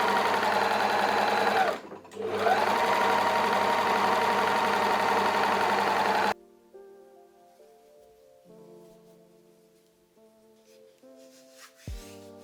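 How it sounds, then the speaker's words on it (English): A sewing machine stitches folded swimsuit strap fabric with elastic, running in a steady loud whir for about six seconds with a brief pause, then stopping; soft tonal music follows. "Now fold the strip in half and stitch along the edge, placing the elastic as you sew."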